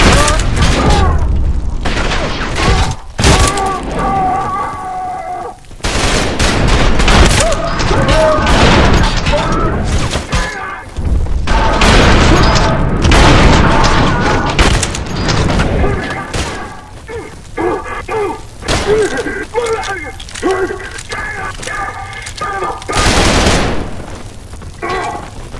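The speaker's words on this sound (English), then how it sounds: "What is he shooting at me from?" Gunfire in the Trepang2 shooter game: dense, loud bursts of shots and booming impacts crowd the whole stretch, broken by a few brief lulls, with a voice and other game audio mixed underneath.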